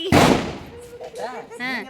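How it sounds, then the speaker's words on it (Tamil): A Diwali firecracker bursts once with a loud close bang that fades, followed by people talking. "சரி வாங்க பட்டாசு அடிக்கலாமா?"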